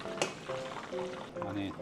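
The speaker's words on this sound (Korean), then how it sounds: "그냥 빠르게 두 번 튀겨내겠습니다." Starch-coated shrimp are deep-fried in oil for a quick cream shrimp recipe, giving a steady bubbling sizzle with small clinks of a utensil against the pot, close and continuous.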